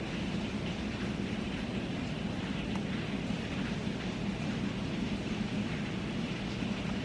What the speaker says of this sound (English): This is the hurricane.